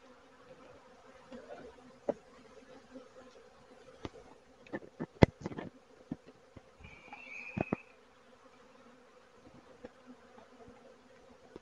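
Honeybees in a healthy flow hive hum steadily and softly throughout, with a few sharper clicks and knocks from the hive breaking through the buzz, and no talking.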